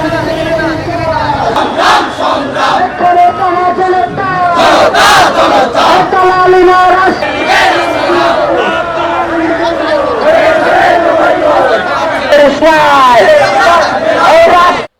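Dense crowd chanting slogans in loud, continuous rhythmic unison throughout a student political group's celebratory rally procession through town streets in Jhenaidah, Bangladesh, with cries rising and falling close by.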